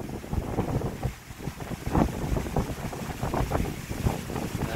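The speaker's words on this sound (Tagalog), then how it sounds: "Kita nyo guys, lakas ng hangin." Strong gusting wind from an approaching typhoon buffets the microphone along a seaside baywalk, a loud continuous roar with rumbling low-end thumps and fluctuating gusts, no voices heard.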